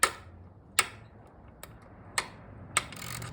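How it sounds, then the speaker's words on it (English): Sharp mechanical clicks from a Bonamici chain adjuster on a Kawasaki ZX10R motorcycle, five of them spaced unevenly, crisp and close against a quiet background with no talking. "So you can hear how defined that click is"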